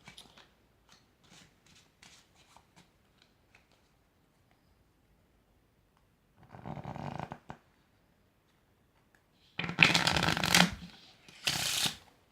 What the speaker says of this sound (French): je vais mélanger les jeux de cartes plusieurs fois